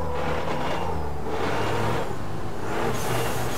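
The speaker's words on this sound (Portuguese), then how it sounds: "Os barulhos de caminhão muito louco." Truck engines in the racing video game Formula Truck Simulator 2013 drone steadily, loud and close, with swelling hiss like air brakes and no speech.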